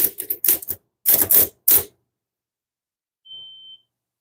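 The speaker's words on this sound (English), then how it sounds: "Did you guys hear that beep?" A single short, thin electronic beep, clean and steady, sounds alone after a burst of sharp clacking, clattering handling noises.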